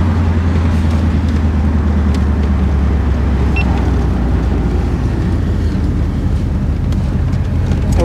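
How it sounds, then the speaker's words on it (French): 1969 Ford Mustang GT engine rumbling through its all-original exhaust, a loud, deep, steady idle close by with no voices. "on est sur une ligne d'échappement entièrement d'origine aussi. Ça chante déjà bien pour une origine."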